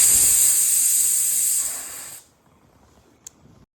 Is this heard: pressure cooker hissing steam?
yes